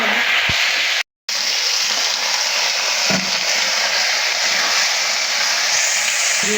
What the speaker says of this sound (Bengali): এখন আমি দিয়ে দেবো আদা রসুন আদা রসুনটা একটু ভেজে